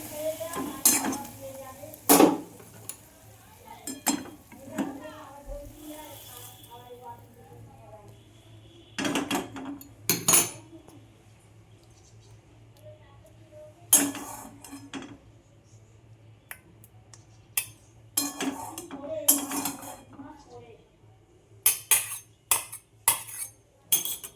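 Metal utensils clink and scrape against pots and pans while a bean dish cooked in mustard paste and mustard oil is taken off a home stove, irregular sharp clatters over a low steady hum, with faint talk at times.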